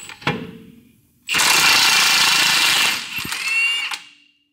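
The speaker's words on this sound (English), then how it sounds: "And then we have a 24mm to get this nut removed." Power tool, likely an impact wrench, removing a 24mm nut from the lower ball joint of a Ford Ranger: a short burst, then a loud sustained whirring hammer lasting about two seconds that eases off, closing with a softer run.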